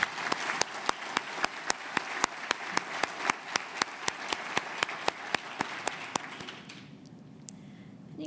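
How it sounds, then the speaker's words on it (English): Audience applause for Barbara and Gretchen at a panel on intergenerational innovation, steady hand claps with sharp individual claps cutting through for about six seconds, then fading out into quiet room tone. "Let's give them a round of applause."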